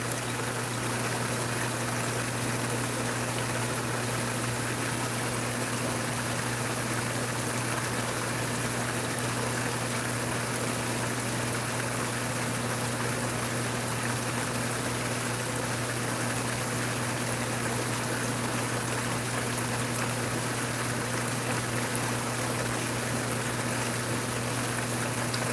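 Green water pouring from a hose into a backyard pool pond, a constant even rushing and splashing that stays steady and close with no pauses.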